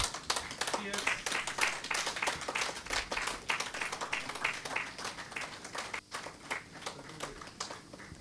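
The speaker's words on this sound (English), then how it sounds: "please give them a big round of applause" An audience claps for graduates called on stage for a group photo at an alumni meet, a brisk patter of many hands that carries on for several seconds, with talk heard alongside it.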